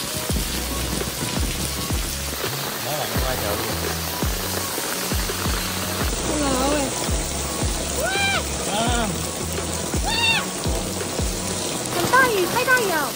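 Heavy rain falls hard and steadily on plastic and other surfaces in a continuous dense patter, with people talking over it.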